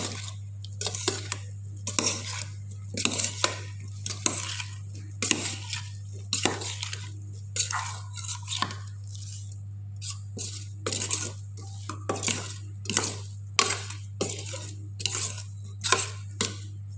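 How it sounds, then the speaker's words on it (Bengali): A spoon mixes brinjal and dried fish in a bowl, sending out irregular clinks and scraping taps close by over a steady low hum, with no talking. "হাত দিয়ে মাখাইব না, চামচ দিয়ে মাখাবো।"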